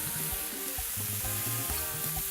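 A mushroom mix fries in oil in a pan, giving a steady bright sizzle with soft clatters as the pieces are pushed around, close and continuous with no talking.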